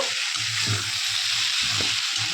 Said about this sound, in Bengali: তো আলুগুলো দিয়ে দিয়েছি, আমি এখন ভালো করে একটু কষে নেব।